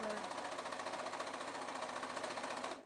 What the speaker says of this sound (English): you may not be able to hear me over the sewing machine